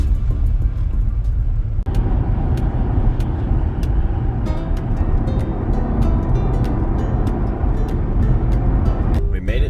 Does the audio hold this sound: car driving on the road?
yes